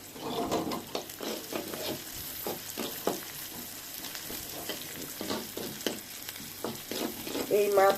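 Bomba chillies frying with onions in a pan for a dried shrimp dish: a close, lively sizzle with repeated spatula scrapes and stirring strokes throughout, fairly loud and without talk.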